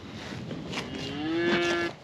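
Pedigree cattle moo on a farm: a single drawn-out, rising then steady bellow swells near and loud over faint outdoor background, with no talking.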